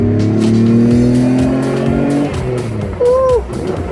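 A Pontiac G6 fitted with a cold air intake revs hard while driving, a loud, close engine note climbing and holding steadily before easing off, ending with a short squeal-like tone.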